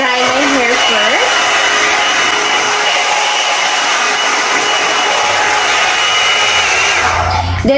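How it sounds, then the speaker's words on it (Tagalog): A hair dryer blows loud and steady while hair is dried, in a grooming session with a beach waver styler. It roars without a break for the whole stretch and drowns out other sound. "So I'm gonna dry my hair first."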